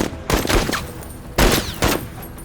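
Loud gunfire erupts in the video game Menace, with three sharp bursts of shots close together over about two seconds and no voices between them.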